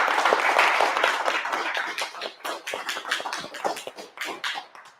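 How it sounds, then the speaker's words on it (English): Loud, dense applause from an event audience at an Orlando mansion gathering starts as a thick wash of claps, then thins into scattered individual claps that fade toward the end. "Give yourselves a round of applause for showing up."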